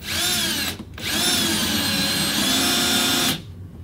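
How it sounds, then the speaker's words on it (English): A power driver whines as it turns a bolt into a corner TV wall mount with tilt and swivel: two close, sustained bursts with a short gap between them. "And then in my case, I have a power driver."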